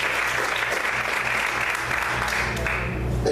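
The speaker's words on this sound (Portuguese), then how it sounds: "Aplauda o Senhor bem forte," Congregation in a church service applauds loudly and steadily throughout, a dense sustained wash of clapping with a low hum underneath and no break.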